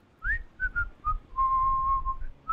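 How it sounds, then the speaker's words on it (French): A character in the video game A Way Out whistles a cheerful tune, a string of short rising and held notes ending in one long sustained tone, clear and close over a low rumbling background. "Je siffle pour pas qu'on ait l'air bizarre"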